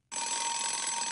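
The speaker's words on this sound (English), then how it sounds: "We did set the alarm for 6:30. Yeah, it's gone off four times." An alarm clock goes off abruptly with a loud, steady electronic tone that holds at even volume for the whole second after a brief silence.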